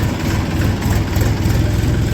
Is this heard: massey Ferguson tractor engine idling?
yes